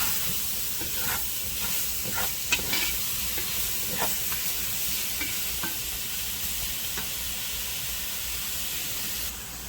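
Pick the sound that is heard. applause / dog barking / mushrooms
mushrooms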